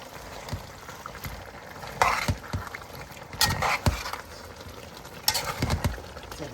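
A spoon is worked through Jamaican-style curry chicken in a pot, giving intermittent scraping, sloshing strokes over a soft, steady sizzle. The sound is close, and no one speaks.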